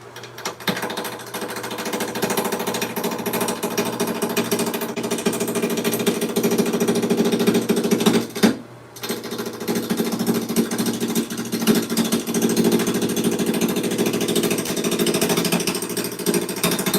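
A wood lathe spins a bowl blank while a gouge cuts it, producing a loud, continuous buzzing chatter with a rhythmic pulse. The sound drops out briefly around the middle, then resumes steadily, with no talking.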